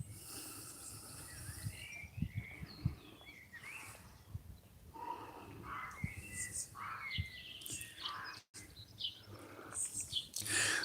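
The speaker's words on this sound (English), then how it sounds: "Hope you guys can hear the birds singing." Birds sing and chirp in short, scattered phrases around a historical village, fairly faint against a soft outdoor background, with no talk over them.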